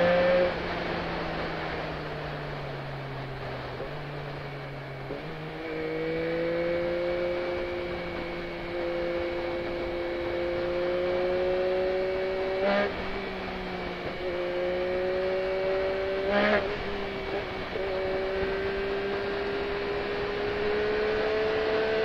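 A Yamaha MT-09 motorcycle drones steadily while riding, its engine note rising gradually as it accelerates through the gears, with a couple of brief shift breaks, under constant wind rush.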